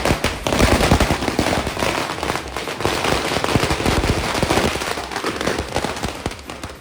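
Diwali firecrackers bursting in rapid, crackling volleys, close and loud throughout with dense overlapping pops like a string of crackers, during a family celebration in Salem.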